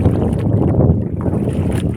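Strong wind buffets the microphone in a low, rumbling roar with gusty fluctuations, loud and continuous, no voices.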